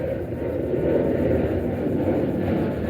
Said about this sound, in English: you can hear the planes overhead.